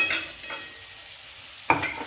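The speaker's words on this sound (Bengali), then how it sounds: "আলুগুলো একটু এর মধ্যে মশলার মধ্যে কষিয়ে নিয়ে কিছুক্ষণ আমি আলুটাকে এর মধ্যে কষবো ভালো করে" Potato pieces frying with green chillies in spices, stirred in a pan: a steady sizzle broken by utensil scrapes against the pan, with a louder stirring clatter near the end.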